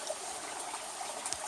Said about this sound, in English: And of course the creek